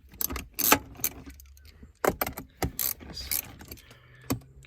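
A ratchet and socket loosen bolts on the shifter of an EF Falcon with manual transmission, giving quick metallic clicking bursts and clinks of tools close up, in short irregular spurts.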